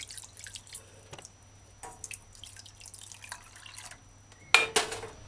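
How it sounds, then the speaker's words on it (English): Water trickles and splashes into a saucepan holding spirulina in irregular bursts, ending in a louder pour, fairly quiet and close. "Add 2 cups water."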